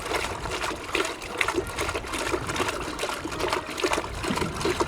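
A horse splashing and playing in its water, giving continuous close trickling and dribbling with small splashes and gurgles, no talk.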